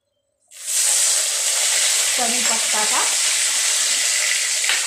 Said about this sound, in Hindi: अब तेल में हम पहले तड़का डालते हैं